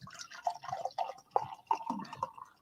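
Left Hand Milk Stout Nitro, a 6% nitrogenated stout, poured from the bottle with a hard center pour, giving a close run of gurgling, dripping liquid sounds that rise and fall in short bursts.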